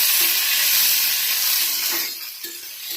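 Onion, cashews, garlic, ginger and coriander stirred in a hot pan for egg korma, a bright steady sizzle close up that quietens toward the end, with faint scraping of the stirring and no voices.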